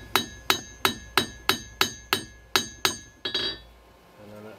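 Repeated hammer blows on forged steel, a blacksmith working a shovel blade, ring out about ten times at a steady pace, each strike sharp with a short metallic decay, the last two closer together.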